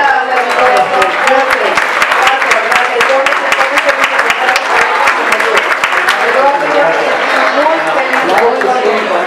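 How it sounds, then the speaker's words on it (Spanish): Crowd applauds a female singer at an outdoor street performance on a promenade, quick sharp claps running steadily throughout with a voice talking over the clapping at times. "El aplauso para ella"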